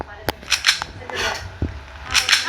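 Sharp gunshot cracks from a video game, several short bursts spread across the moment with bright impulsive snaps, fairly close and loud, over faint background game noise.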